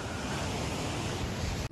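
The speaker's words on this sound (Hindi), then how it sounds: "बहुत स्पीड से पानी भी आ रहा है" Fast water rushes down the Putudi waterfall in a continuous loud roar, close by and unbroken, cutting out abruptly at the very end.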